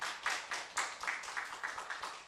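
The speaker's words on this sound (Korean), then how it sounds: "박수칩니다." A church congregation claps in unison, a steady rhythmic beat of about four claps per second, close and moderately loud, with no voices over it.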